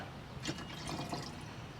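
Liquid lawn weed killer for poa is poured from a measuring cup, a faint, soft trickle and splash close by with no talk.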